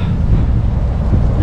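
Strong wind driving blowing snow across open ground during an extreme Canadian winter storm, a loud, continuous buffeting rumble battering the microphone for a brief moment.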